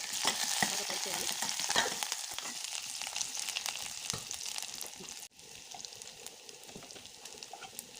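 Finely chopped garlic and a few curry leaves fry in hot ghee, making a continuous crackling sizzle dotted with sharp pops and stirring clatter, close and fairly loud throughout with a brief dip partway.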